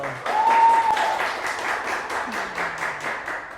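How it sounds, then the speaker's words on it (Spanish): A live audience welcomes a guest speaker on prehospital care with steady, lively applause that fills the whole stretch, with a faint tone and murmur beneath it. "quiero que me ayuden recibiéndolo con un fuerte aplauso"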